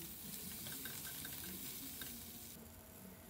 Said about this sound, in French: dans la même poêle, je mets les oignons, des poivrons,